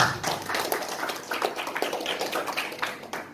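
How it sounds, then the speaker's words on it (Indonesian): Applause breaks out for a doctor honoured at an Ombudsman Makassar session for university students: many hands clapping in a dense, irregular patter at moderate level, steady for the whole stretch with no voices over it. "Tepuk tangan dulu untuk Pak Dokter."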